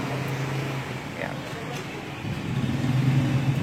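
A Rusi Macho 150 pushrod motorcycle engine, a tricycle-type bike with sidecar, idles steadily at close range with a low, even throb that swells slightly louder toward the end, while someone talks over it.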